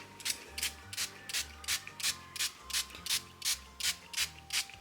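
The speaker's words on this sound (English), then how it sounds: "I'm going to spray the paints to" A spray bottle mists water onto a Winsor & Newton Cotman watercolour studio set, giving about a dozen sharp, hissing spritzes in an even, quick rhythm. The sprays sound close and fairly loud, with a faint hum between bursts.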